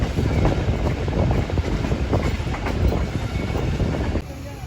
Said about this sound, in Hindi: हमारी गोरी एक्सप्रेस बढ़ रही है अब शादरा और बादामी बाग की जाने